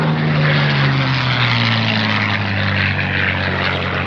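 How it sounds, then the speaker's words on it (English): A P-51 Mustang World War II fighter at an air show roars past with a steady, loud piston-engine drone whose pitch slowly falls. The engine sound is continuous and alone, with no voices. "The amazing sound and power of the P-51 Mustang, delivering every single time"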